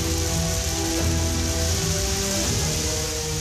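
Heavy rain pours down steadily during a storm with strong wind in a village in Nganjuk, East Java, a dense continuous wash of drops close by with no voices.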